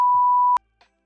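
A censor bleep: a loud, steady pure tone lasting about half a second, ending abruptly, followed by a brief faint noise and then near silence.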